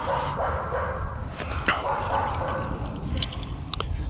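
A dog barks a few times in popular woodland busy with dog walkers, short yips rising over steady outdoor background noise at moderate distance, with no talk.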